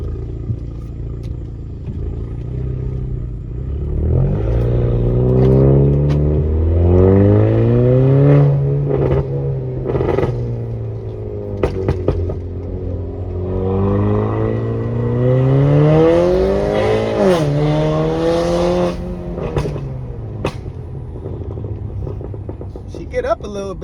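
Car revving and accelerating hard through a makeshift exhaust during a spin-off, a loud raspy engine note rising and falling in repeated pulls, close and sustained for the whole stretch.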